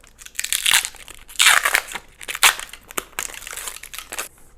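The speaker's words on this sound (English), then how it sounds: "I'm gonna take this protective plastic off now" Protective plastic film being peeled and crinkled off a new Samsung fridge water and ice dispenser part, in several loud close bursts of crackling and tearing with short pauses between.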